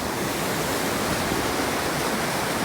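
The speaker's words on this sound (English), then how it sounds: "water's just kind of running down our roadway, kind of filling up the little creek area across from there" Floodwater running down a residential roadway beside a creek, a steady, loud, broadband rush of flowing water that holds constant throughout with no other sounds.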